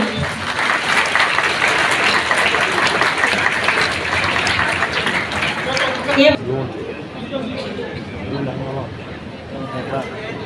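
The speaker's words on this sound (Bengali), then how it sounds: "খুব জোরে হাততালি চাই।" A crowd at a government outreach event with Chief Minister Manik Saha claps loudly and densely for about six seconds. The clapping then drops away to a murmur of crowd noise and scattered voices.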